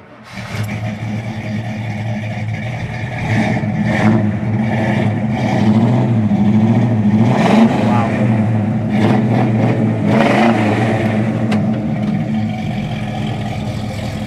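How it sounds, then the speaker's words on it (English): A 1969 Oldsmobile Cutlass Supreme with dual exhaust rumbles nearby, its engine revving in repeated blips over a deep idle, loud and throaty with faint talk in the background. "That dual exhaust sounds fantastic."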